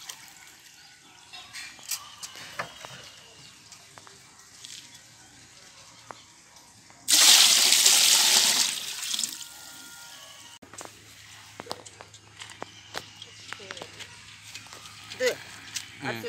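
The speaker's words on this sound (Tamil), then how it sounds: "தண்ணி ஊற்றலாமா?" Water gushes into a large pot of marriage-style chicken biryani, a loud rushing pour lasting a few seconds mid-clip, framed by quieter kitchen clatter and people talking before and after.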